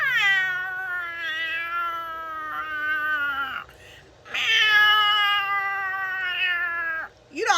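A voice imitates a cat in heat, drawing out two long, wavering meows with a brief pause between them, close and fairly loud.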